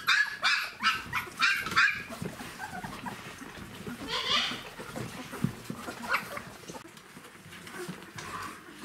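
Litter of 17-day-old puppies nursing, with close squeaks, whimpers and small yelps in short bursts over soft suckling and shuffling, no talking.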